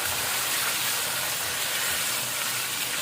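Mutton frying in the leftover onion oil in a large pot, about 1.5 kg of meat giving a steady, loud, close sizzling hiss throughout.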